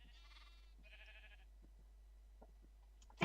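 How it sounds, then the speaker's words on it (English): Sheep in a modded Minecraft-style farm game repeatedly bleating, several short nasal cries in quick succession early on against a quiet background, with faint clicks later. "These sheep have not stopped doing this since the day I put them in there."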